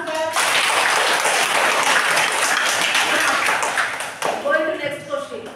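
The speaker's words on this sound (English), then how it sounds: "Give the claps for that." Students in a classroom clapping together, a loud, dense burst of applause lasting several seconds that thins out toward the end as a voice starts speaking.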